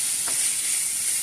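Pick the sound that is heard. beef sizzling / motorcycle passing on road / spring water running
beef sizzling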